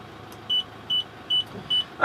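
Reversing parking sensor buzzer on a Land Rover Defender sounds four short, evenly spaced electronic beeps at a steady rhythm, clear and close over a low idling hum as the vehicle backs up a slight gradient.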